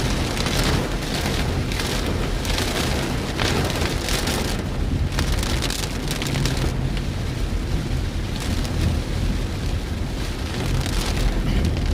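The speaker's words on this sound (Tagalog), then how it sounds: "Lakas ng ulan." Heavy rain pours down in a steady, loud, dense hiss that fills the whole stretch, with no talk and a few swells in intensity along the way.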